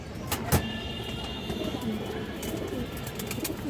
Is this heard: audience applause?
no